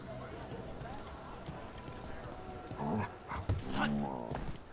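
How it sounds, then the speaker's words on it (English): Pit bull noises from a dog in a video game, small whimpering grunts and short huffs near the end, mixed with game footstep sounds and a voice talking over it. "he makes little pit bull noises"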